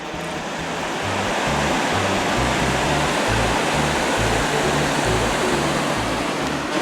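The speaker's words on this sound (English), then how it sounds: "I'm here admiring a waterfall at Salina Creek" Waterfall at Salina Creek roars in a steady, loud, broadband rush of falling water, constant throughout with no voices.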